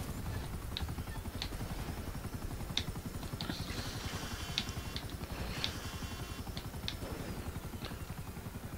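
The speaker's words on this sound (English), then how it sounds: "Let's take a helicopter." A helicopter's rotor in Grand Theft Auto V Online thumps in a fast, steady chop throughout, loud and close, with faint clicks and whines layered on top.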